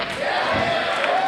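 A wrestling arena crowd roars and cheers, a dense, loud, sustained wall of voices.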